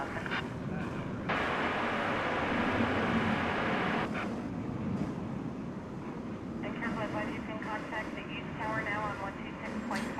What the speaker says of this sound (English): This is an Ameriflight Beechcraft, I believe it is, coming in from Amarillo, Texas.